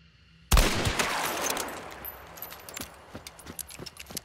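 Gunfire from a test shot in the video game Hunt: Showdown: one sharp, loud report with a long rolling echo that fades, followed by faint scattered clicks and clatter.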